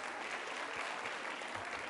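A crowd at a Rajasthani culture quiz show at Vaidik Kanya Mahavidyalaya claps loudly and continuously, a thick roomful of applause with no break and no talk over it.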